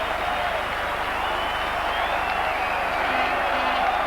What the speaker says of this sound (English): Yes, shout the crowd.